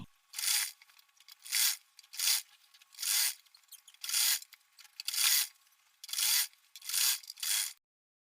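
A sewing machine stitches elastic onto a salwar pocket, running in about nine short, even whirring bursts with near-silent pauses between them, close and moderately loud.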